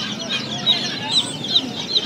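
Chickens at a pet market clucking in short repeated calls, fairly close, over a busy background where a person talks.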